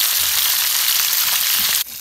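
Steady, dense sizzling of fish frying in hot oil, close and continuous, with a brief drop in intensity near the end.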